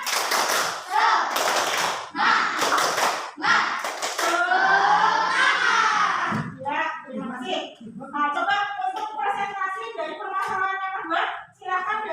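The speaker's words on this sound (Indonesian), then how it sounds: "Nah, kita tepuk semangat dulu. Tepuk semangat." A class does a rhythmic group clap chant, several sharp loud clap bursts in a patterned sequence at the start, followed by children and a teacher chanting and talking.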